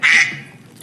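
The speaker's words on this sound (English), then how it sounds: "Was that a duck?" A single short, loud duck quack sounds close by, then trails off into quiet background noise.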